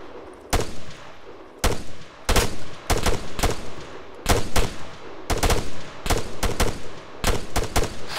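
Gunfire in the military shooter video game ArmA 3, loud bursts and single shots in irregular clusters across several seconds, close and punchy with no talk over them.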